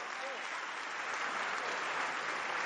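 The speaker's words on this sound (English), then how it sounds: "Give him a round of applause" Crowd at a North Carolina campaign rally applauding, a fairly faint, distant, continuous patter of many hands with a dense, even texture throughout.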